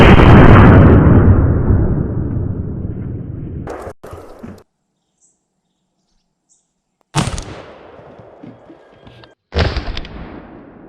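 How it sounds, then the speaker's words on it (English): An 1887 Winchester lever-action rifle chambered in 70-150 fires outdoors: a loud booming shot with a long rolling echo, followed after a pause by two more sharp reports, each decaying away. "You got this big old 70 caliber rifle out here."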